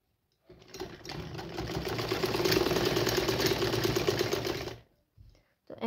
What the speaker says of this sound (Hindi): ऐसे करके आपको पूरे में स्टिच लगानी है।